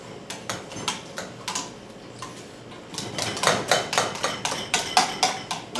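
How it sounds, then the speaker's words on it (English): Potatoes are mashed by hand with butter and cream, a series of close, repeated rhythmic thumps and squelches that grow louder and steadier in the second half. "And just mash away."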